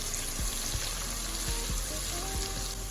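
Onions and cumin seeds fry steadily in a pan with a dense, even sizzle, broken by a few soft taps of a stirring spoon, close and continuous.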